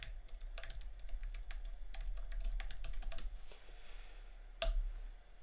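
Rapid clattering keystrokes on a computer keyboard, a steady run of fairly faint clicks that continues throughout with one louder tap near the end.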